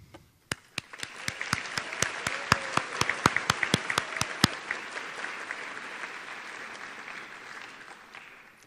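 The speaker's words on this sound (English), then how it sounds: "Please rise for a round of applause." An audience at a high school honors convocation applauds, the clapping swelling quickly and holding as a steady, dense wash of many hands, with a series of sharp, loud claps standing out near the front during the first few seconds.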